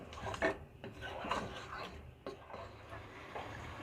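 Chicken sautéed with spices in a pan, heard as steady rasping scrapes of a spatula stirring against the pan, with faint sizzle underneath, quiet and close.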